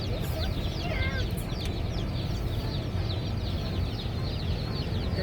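Baby chicks in a backyard brooder, a constant crowd of high peeping chirps over a steady low hum, with faint voices mixed in underneath.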